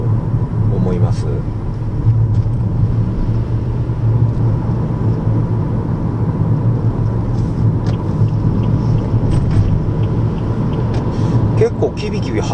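Toyota Noah GR minivan on a test drive, a steady low engine and road rumble inside the cabin with a few faint clicks, while a person talks throughout.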